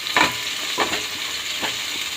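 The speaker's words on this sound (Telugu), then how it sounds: "ఇంకా ఆనియన్స్ బాగా ఫ్రై చేసుకోవాలి." Onions and green chillies frying in a pan, a steady sizzle broken by three rhythmic bursts of stirring scrapes, close and fairly loud, with no voices.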